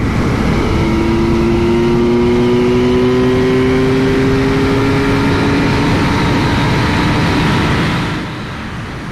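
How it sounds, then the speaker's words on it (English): Kawasaki Z900 motorcycle out on the road, its engine loud and close in a steady high-revving drone with rising tones as it accelerates, then easing off near the end. "How this changes lanes and then it goes blowing into the corner"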